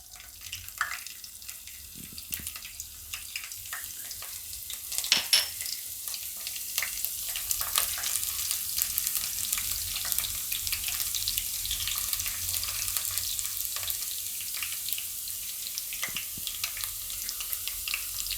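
Garlic and cumin seeds frying in hot oil hiss with a bright, steady sizzle that swells after a few seconds, with occasional spoon clinks and scrapes.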